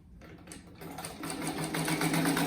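A sewing machine stitches a striped rug, its needle chattering in a fast, steady rhythm that starts softly and builds to a continuous close whir.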